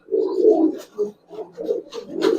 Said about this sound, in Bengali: দেখেন এইটা একটা নর কবুতর